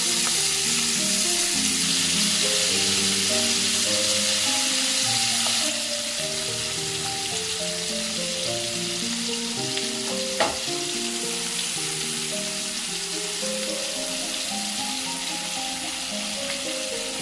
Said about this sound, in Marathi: प्रॉन्सची एक साईड शिजून झाली की गॅस कमी करायचा आणि सगळ्या प्रॉन्स पलटून घ्यायचा